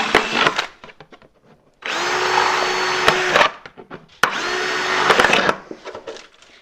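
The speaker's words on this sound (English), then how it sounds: "So you're just going to drill a hole" An electric drill whirs through a plastic jug in two sustained bursts of about two seconds each, with a steady high whine and brief pauses between.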